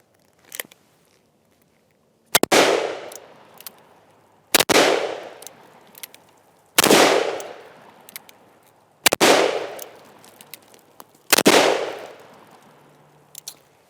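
Five loud, evenly spaced gunshots from a Ruger Super Blackhawk .44 Magnum revolver, each a sharp crack with a long ringing decay, fired outdoors with no talking.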